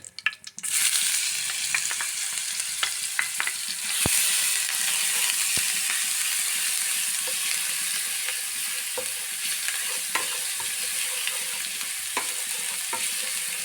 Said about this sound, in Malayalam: ഞാൻ ഒരു പാൻ വെച്ചിട്ടുണ്ട് അതിൽ രണ്ട് സ്പൂൺ വെളിച്ചെണ്ണ വീത്തിൻ്റെ അതില് രണ്ട് കറുകപ്പട്ടയും രണ്ട് ഏലക്കായിരുന്നു പിന്നെ ഇഞ്ചി വെളുത്തുള്ളിയും ചതച്ചത്